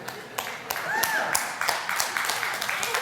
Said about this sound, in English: Thank you for cheering that I'm not that smart.